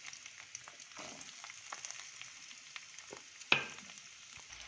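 Onions, shallots and curry leaves sautéing in oil in a pan for fish curry, a soft, steady sizzle with faint stirring scrapes and one brief louder clink.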